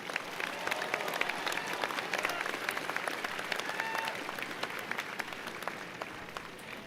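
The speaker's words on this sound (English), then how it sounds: "One more round of applause for our graduate students." Sustained applause from a graduation commencement crowd honoring graduate students, a dense steady wash of many hands clapping at moderate distance, with a voice faintly underneath.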